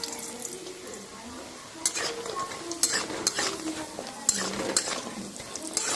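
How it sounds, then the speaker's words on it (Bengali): Lentil dumplings (bori) fry in hot white oil with a steady sizzle, broken by scattered sharp pops and spatters and a few stirring knocks, close up, with no talking. "তেলটা গরম হয়ে আসলে বড়িগুলো আগে ভেজে নেব"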